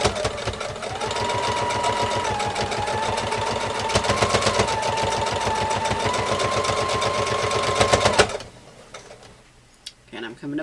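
Sewing machine stitching a quarter-inch seam on a pumpkin placemat, a fast steady mechanical chatter for about eight seconds before stopping, with a voice talking over the running motor.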